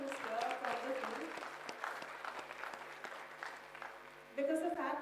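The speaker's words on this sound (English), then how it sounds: "can we just have a big round of applause for everyone who's here from the field?" An audience in a hall claps for attending field staff and functionaries, a fairly quiet, scattered round of applause mixed with people talking, then a louder burst of voices near the end.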